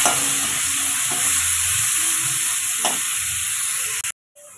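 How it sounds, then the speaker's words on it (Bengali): Onions sizzle loudly in hot oil with cumin, a dried red chilli and bay leaf, a steady close frying hiss with a couple of soft stirring scrapes, cutting off abruptly near the end. "পেঁয়াজটা একটু হালকা লাল করে ভেজে নেব।"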